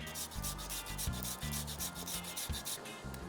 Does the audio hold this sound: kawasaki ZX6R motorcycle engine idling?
no